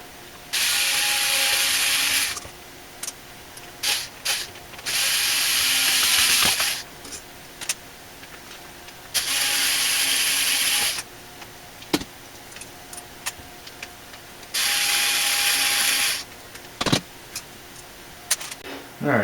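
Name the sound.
loosening a CPU water block with tools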